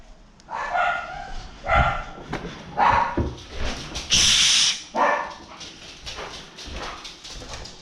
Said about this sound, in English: after I yell at these dogs and tell them to shut the hell up